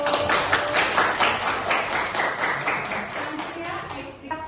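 Students clap together in a classroom lesson, a burst of hand claps with sharp repeated strikes that thins out toward the end, with some voices underneath.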